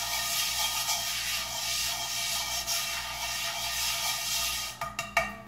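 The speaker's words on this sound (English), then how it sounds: "Now you can take your brush and go around the pot, the pan, whatever you want to call it, skillet." A brush scrubs around a cast iron skillet with steady, close rasping strokes, ending in a few louder knocks and scrapes.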